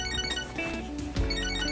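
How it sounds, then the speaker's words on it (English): A phone ringtone plays in the video game Catherine: Full Body, a loud, steady melodic electronic ring sounding alone for a brief moment. "Oh, my phone."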